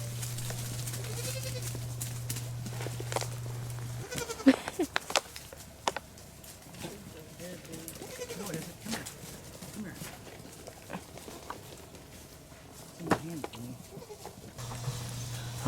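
Goats bleat several times at intervals, mixed with rustling and a person talking in the background.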